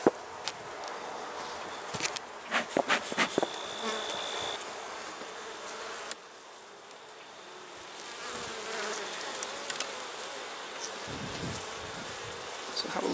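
Honeybees buzz around an open, struggling hive in a steady, close drone, with scattered taps and handling noises from working the hive box.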